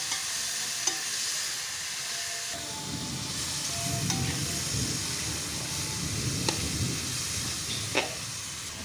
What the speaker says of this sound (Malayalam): വഴറ്റി കൊടുക്കുക